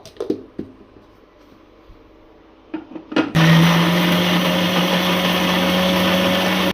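A few light knocks and handling clicks lead into a kitchen mixer grinder, its jar missing its cap, blending cooked tomatoes for chutney: a loud, steady, high whirring drone continues to the end.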